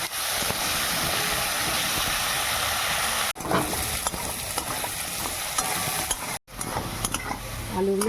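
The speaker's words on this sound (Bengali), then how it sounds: "আলুগুলো ভাজা হয়ে গেছে, একটু নাড়িয়ে নেব।" Fried potatoes are stirred in a hot pan of oil, with loud sizzling and scraping strokes up close, broken by a couple of short pauses.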